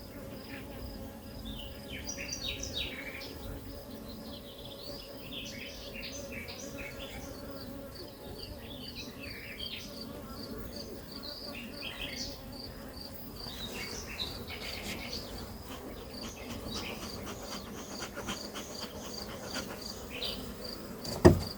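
Honeybees buzz continuously up close, a dense, wavering hum of many insects around a hive, with a sharp knock near the end.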